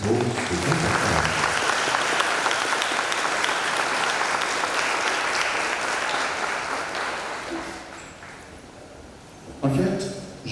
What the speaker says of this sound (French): Je vous demande de les applaudir chaudement pour ce grand passage.